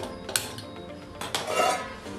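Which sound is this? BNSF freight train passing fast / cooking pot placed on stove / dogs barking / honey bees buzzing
cooking pot placed on stove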